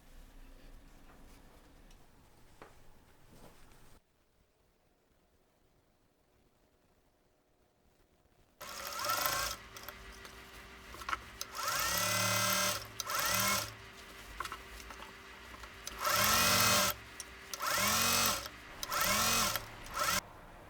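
A sewing machine stitches a peplum piece onto a bodice band in repeated bursts of rapid mechanical whirring, loud and close, separated by short pauses. Quieter handling noise and a silent stretch come before the stitching starts.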